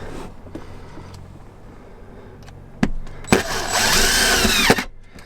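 A power drill driving screws into an old Land Rover camper, with short whirring bursts at first, then a louder sustained spin of about a second and a half close by, amid light handling clatter.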